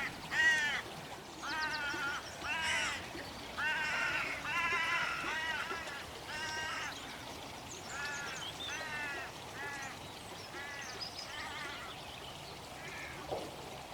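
Hooded crows calling repeatedly near a spread of decoys, a run of harsh, rasping caws that come one after another at close range, with a steady outdoor background underneath.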